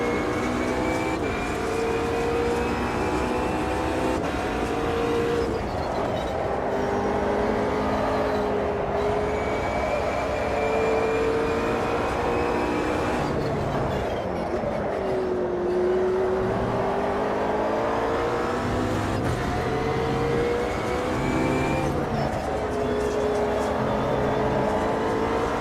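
Race car engine from the Automobilista 2 sim racing game, a continuous loud drone with shifting revs and gear changes, another car's engine droning close behind, no speech.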